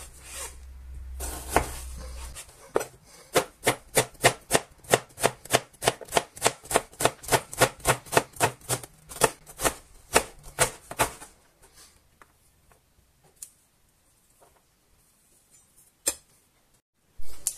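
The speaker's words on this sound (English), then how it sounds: "I'll start off by chopping the onion up" Rapid, steady knife chops through an onion on a cutting board, a long run of sharp evenly spaced strikes, close and fairly loud, then a few scattered taps.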